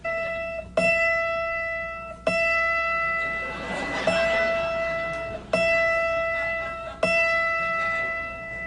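Autoharp tuning notes played from an old record, a series of plucked string tones, each one ringing out and fading before the next strike, about six notes at an even pace with steady surface hiss underneath and no talking.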